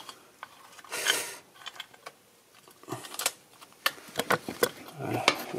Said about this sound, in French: Je vais tirer sur la pompe à eau et je vais sans faire tomber les vis bien sûr.